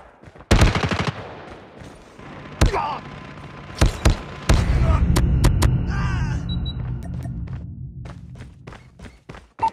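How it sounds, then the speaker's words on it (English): Rapid bursts of automated gunfire from a deployed sentry gun in a Call of Duty match, sharp loud volleys separated by short pauses, with thuds and scattered impacts around them. "Sentry gun ready to deploy. Sentry gun deployed."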